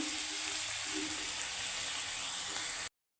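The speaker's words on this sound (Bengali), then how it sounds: "মশলাটা কি সুন্দর কষা হচ্ছে" Onion, green chilli, Kashmiri chilli, turmeric and bay leaf masala frying in leftover fish-frying oil for a fish curry, giving a loud, steady close-up sizzle that runs unbroken and then cuts off abruptly.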